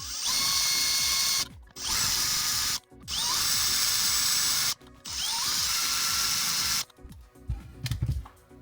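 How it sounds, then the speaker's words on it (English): A drill runs a countersink into the back of brass inserts in several loud, close bursts of high whine separated by short pauses, followed by faint handling clatter. "we're just going to run a countersink into the back of these brass ferrules, these brass inserts"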